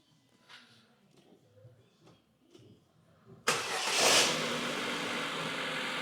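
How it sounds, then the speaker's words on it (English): After a timing belt replacement, a car engine starts with a short crank after a few faint clicks and knocks, then settles into a loud, steady idle close by. "we get on the key and give it a big start, Rooney."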